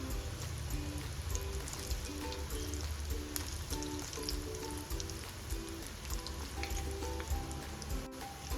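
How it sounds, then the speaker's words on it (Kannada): Badusha sweets deep-frying slowly in oil on low flame produce a continuous fine crackling sizzle, close and steady throughout, with a faint repeating tonal hum beneath and a sharp click near the end. "ಸ್ಲೋ ಸಿಮ್ಮಲ್ಲೇ ಸ್ವಲ್ಪ ಹೊತ್ತು ಫ್ರೈ ಆಗಲಿ."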